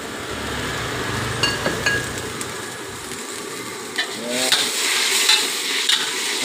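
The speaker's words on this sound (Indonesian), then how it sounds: "aduk-aduk biar rata." Chicken sizzles in a pan with oyster sauce, fish sauce and sesame oil while being stirred, with scraping strokes and light clinks of utensil on pan over continuous frying.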